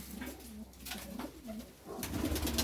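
Pigeons coo in a steady series of soft, rolling calls close by, several overlapping birds in a loft while a mixed grain feed is set out, with a busier stretch of cooing near the end and no talking.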